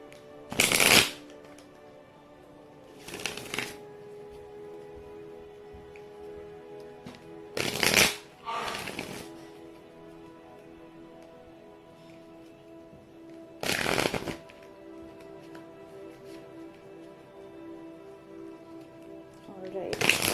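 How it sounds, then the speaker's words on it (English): A deck of cards is riffle-shuffled in several short, crisp bursts spaced across a quiet stretch, close and distinct with a faint background hum between them. "Last time I'm gonna shuffle."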